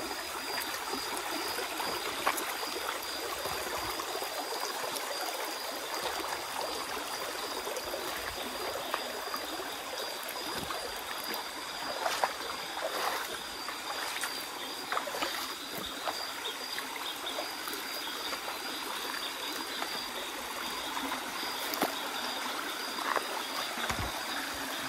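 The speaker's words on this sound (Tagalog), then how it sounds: "yung agos na tubig" Forest stream water flowing steadily over rocks, a continuous close rushing babble with light splashes and trickles, no voices throughout.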